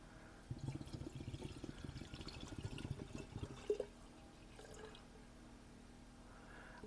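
Oil painting medium, a solvent and linseed oil mix, poured into a container as a steady liquid stream that runs for about three seconds, then a brief clink and quiet room tone.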